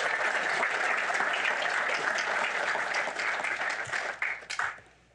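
Sustained audience applause at a lecture hall welcomes a judge to the stage, dense and steady for several seconds before thinning out into scattered claps near the end.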